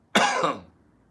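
A person gives one short, harsh hacking cough, imitating a hairball being brought up, then silence.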